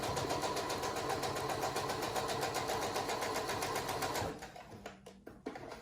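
A sewing machine runs steadily at close range with a fast, even mechanical chatter while stitching a breathable fabric face mask, then stops abruptly near the end, leaving a few faint handling clicks.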